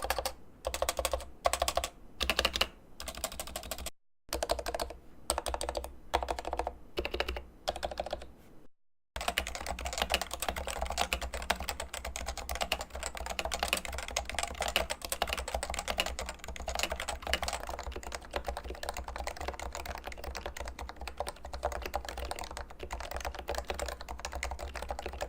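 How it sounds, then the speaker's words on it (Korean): Steady typing on a lubricated Topre electrostatic capacitive keyboard that takes mechanical-style keycaps, close and alone: a gapped run of rapid soft keystrokes at first, then a long dense unbroken stream of muted key presses. "이 키보드를 똑같은 방식으로 윤활해보고 비교해보겠습니다"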